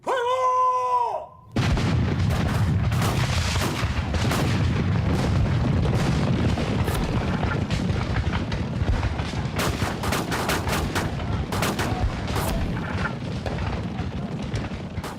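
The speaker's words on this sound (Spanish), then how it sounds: "se escuchó el primer cañonazo" Continuous heavy bombardment of booming cannon blasts and rapid gunfire, dense and loud throughout, following a brief tonal sound at the very start.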